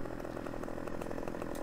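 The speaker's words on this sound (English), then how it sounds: "That's just where you cut it off with your chainsaw, man." A chainsaw cuts through a tree in Farming Simulator 15, its engine buzzing loud and steady without a break.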